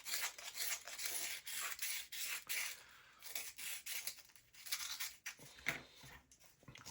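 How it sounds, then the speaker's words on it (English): Folded sandpaper rubbing over small laser-cut wooden model parts, a close, quiet rasping scrub repeated in uneven strokes with brief pauses between passes. "So I'm just gonna fold this little sandpaper and sand it all around."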